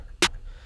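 A single snare drum sample for a hip-hop beat cracks once, sharp and bright, with a short bodied tail, alone and close.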